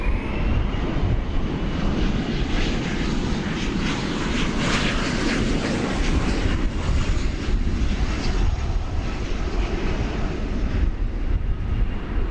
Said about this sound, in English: 737-800.